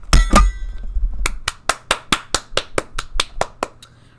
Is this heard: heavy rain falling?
no